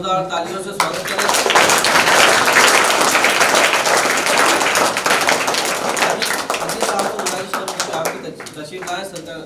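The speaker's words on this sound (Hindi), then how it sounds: "जोरदार तालियों से स्वागत करें" A crowd at an Indian madrasa's Independence Day event bursts into loud, sustained applause that gradually thins out, with scattered claps near the end.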